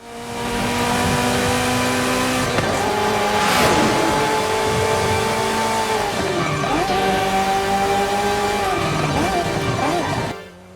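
A BMW 2002 engine in the racing game Forza Horizon 5 drones loudly and steadily, dipping and rising again as gears shift, with a brief tire squeal partway through.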